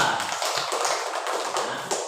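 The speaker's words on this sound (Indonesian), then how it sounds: "Tepuk tangan untuk Najwa" Classroom children clap for a pupil named Najwa during a lesson, a quick close patter of many small hands, fairly loud and even throughout.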